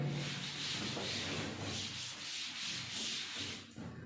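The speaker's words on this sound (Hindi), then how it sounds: "मैं इसको रब करके वापस लिखता हूं" A board duster rubs out writing on a classroom board, a soft rhythmic scrubbing of repeated strokes, close by but quiet, with no talk.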